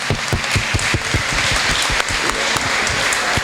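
Church crowd at a parish anniversary celebration breaks into applause, a dense, loud burst of many hands clapping continuously without pause.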